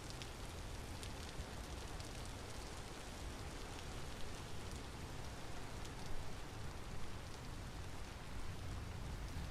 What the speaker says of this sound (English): It is just rain.